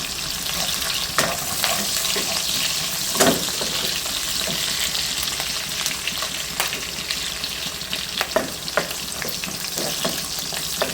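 Onions and brinjal sautéing in a pan: a steady, loud sizzle with occasional sharp scrapes and clacks as a spoon stirs, close up and without talking.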